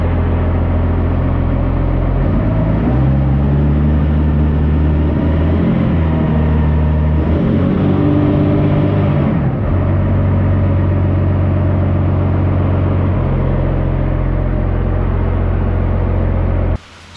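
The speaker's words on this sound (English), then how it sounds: "Truck's in reverse." Cummins diesel-swapped monster truck idling in reverse with a freshly installed transmission, a loud, steady low engine drone that shifts pitch midway as load changes, then cuts off abruptly at the end.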